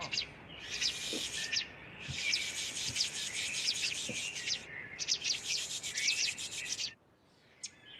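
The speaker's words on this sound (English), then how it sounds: "Oh, Tennessee Warbler." A Tennessee Warbler sings rapid, high, dry chattering trills in several bursts, moderately close, before falling quiet near the end.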